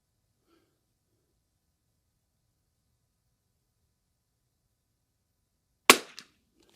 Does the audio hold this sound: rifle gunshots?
yes